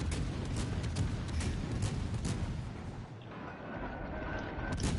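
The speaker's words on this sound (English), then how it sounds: "One full salvo" Battleship main guns fire a full salvo in World of Warships Legends, a dense rolling barrage of deep booms and cracks that fills the first three seconds before easing into a lower rumble with a faint tonal hum.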